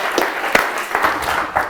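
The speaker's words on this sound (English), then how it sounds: "I'll clap for you." An audience at a talk on fairer access and participation gives brief, fairly sparse applause, a few distinct claps standing out over a soft patter, close and moderately loud.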